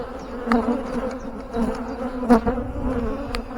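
A dense swarm of honey bees buzzes continuously and close, with individual bees droning louder as they pass by.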